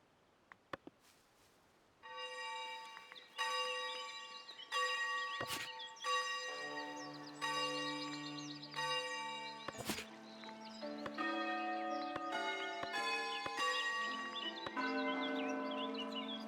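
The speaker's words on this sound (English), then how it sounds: "Now I'll have two different churches bells playing." Church bells from two different churches ring in the city-building game Foundation, entering after a quiet start with repeated loud, resonant strikes that overlap and linger in a continuous peal.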